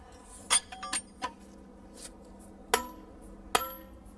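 Hammer blows on plug and feathers set into drilled holes to split stone, sharp metallic clinks in an irregular series, a few close loud strikes with ringing tails and lighter taps between.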